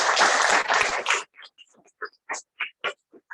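An audience at a Toastmasters club meeting breaks into a dense burst of clapping that stops abruptly after about a second, leaving a few scattered claps and small noises in a quiet room.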